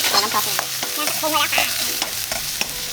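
Vegetables stir-fried in a hot pan after garlic browns, for a chicken and cashew dish, giving a continuous loud sizzle with scraping spatula strokes and clinks throughout, no one speaking.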